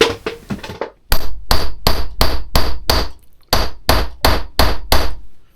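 Loud, close hammer blows strike in a steady rhythm while making a button die, about a dozen sharp metallic hits with a brief pause midway.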